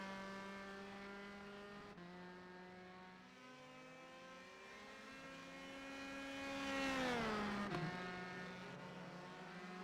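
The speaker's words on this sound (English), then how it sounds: "Mahavir Raghunathan, first car out, attempting to do a qualifying lap." Race car on a qualifying lap at the New England Grand Prix, engine note held steady then rising and sweeping down in pitch as it passes close around seven seconds, continuous and fairly loud.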